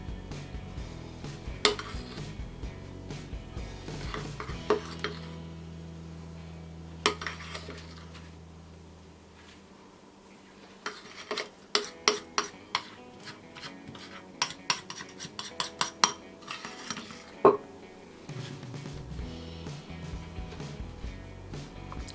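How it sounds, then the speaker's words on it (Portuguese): A cinnamon, sugar and butter paste is spread over cinnamon roll dough with a utensil, mixing soft scraping with scattered sharp metallic clinks, some in quick bursts, close by and with no speech. "Agora é só vir aqui com a nossa pastinha de canela com açúcar e manteiga e espalhar"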